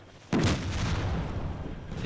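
A vehicle explodes in Arma 2 with one sudden, loud, close blast, and a deep rumbling roar dies away slowly over about two seconds.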